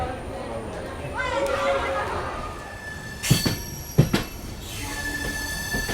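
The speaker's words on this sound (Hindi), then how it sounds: "फिलहाल ट्रेन तो एकदम डॉट ऑन टाइम निकली है न्यू जलपाईगुड़ी रेलवे स्टेशन से।" An Amrit Bharat Express pulls out of New Jalpaiguri station: rolling rumble with high wheel squeals, a couple of sharp clanks midway, and faint voices chattering in the background.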